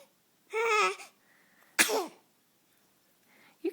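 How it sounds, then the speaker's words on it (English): A baby gives a short, voiced vocal burst, then a single sharp sneeze close by, followed by quiet and a faint breathy sound at the end. "You got the sneezes, don't you?"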